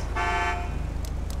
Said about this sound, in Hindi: इसके हॉर्न वगैरह हैं।